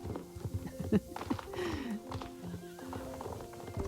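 Horses in the game Star Stable Online whinnying and neighing over soft clip-clop hooves, with several overlapping calls, fairly close and moderately loud.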